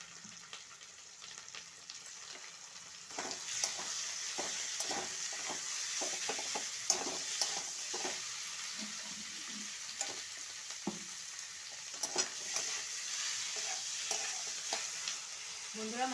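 Minced meat sizzles steadily in a pan with a hissing fry, while a spoon scrapes and stirs it in repeated close strokes and taps, no talking.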